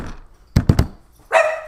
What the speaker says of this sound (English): Oh, God, I got the dogs worked up.